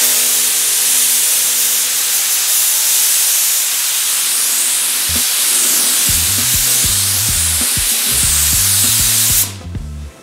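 A paint spray gun lays down a medium-wet coat in one loud, steady hiss that runs nearly the whole time, with rhythmic mechanical knocking underneath in the second half before the spray cuts off abruptly at the end.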